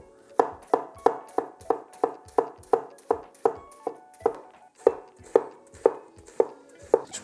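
An ENOWO Damascus 8-inch chef knife chops an onion on a cutting board, making about sixteen crisp, evenly spaced thuds in a steady rhythm, close and clear with no talking.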